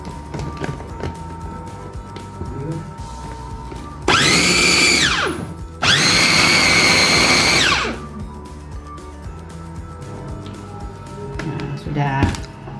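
A food grinder blends meatball dough with cold water for hollow fried meatballs (bakso goreng), in two loud, steady whirring bursts of about two seconds each, separated by a brief pause, with quieter kitchen sounds before and after.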